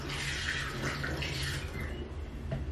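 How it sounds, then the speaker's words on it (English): Water splashes and gurgles as it is poured into a container to make iced tea wine, a continuous close trickling pour that tapers off toward the end. "Maybe we put more water inside."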